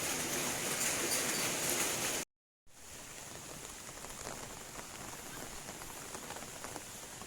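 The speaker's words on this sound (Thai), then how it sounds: "เสียงฝนตกสีสังกะสี" Steady rain drumming on a metal roof, dense and close, with a brief dropout of silence before the patter resumes slightly softer.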